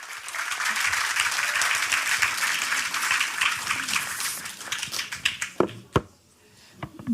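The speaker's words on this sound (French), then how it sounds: "je vous demande d'applaudir Caroline Dubois du refuge Groingrouin." Audience applause at a conference about pigs, a dense steady clapping that thins out into scattered individual claps and fades to near silence.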